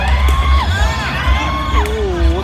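A home crowd cheers loudly at a sepak takraw doubles final at a local festival, with whoops, yells and high shouts rising and falling close by, and a commentator speaking over the noise.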